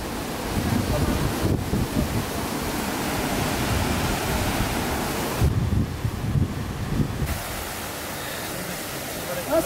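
Snowmelt stream at Api base camp in the Nepal Himalaya, flowing as a steady broadband rush of water with wind mixed in. The sound stays continuous and fairly close throughout, with a brief dip in the highs partway through.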